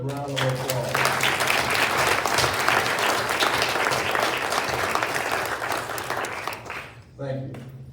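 Sustained audience applause for a scholarship selection committee at a scholarship awards ceremony, loud and dense for about seven seconds, then fading as a voice begins speaking near the end.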